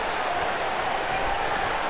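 A Southern California wrestling show crowd cheers and applauds in a dense, steady roar of clapping and voices, loud and continuous with no pauses.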